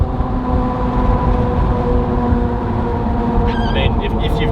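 A Toyota Troopy rolls along on 35-inch tyres with a 2-inch lift, its cabin filled with steady low road and engine drone while people talk over it and a brief higher squeak sounds near the end.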